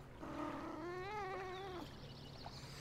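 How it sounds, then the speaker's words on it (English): A cat lets out a single drawn-out, wavering meow close by, rising and falling before trailing off into quiet room tone. "Oh, I'm being distracted by cat."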